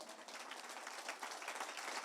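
Applause from a church congregation standing to honour the Holy Spirit, a steady dense wash of many hands clapping together at moderate loudness, with no voices over it.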